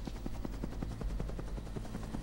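A helicopter arrives in the video game Dino Crisis, its rotor giving a rapid, even thumping chop against a steady low engine drone at moderate distance.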